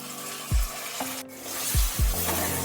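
Chopped tomato drops into hot oil in a pan with a sizzle, and several separate low thumps and stirring knocks sound over a continuous frying hiss.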